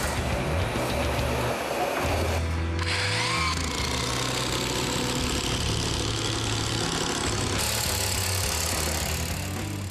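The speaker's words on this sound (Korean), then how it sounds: "모듈러 한옥은 수만 번의 전동 드릴로 지어집니다" An electric power drill runs at a modular hanok construction site. Its motor drones loud and continuous, shifting pitch as the load changes, with no speech.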